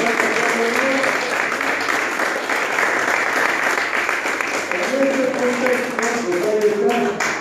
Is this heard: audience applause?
yes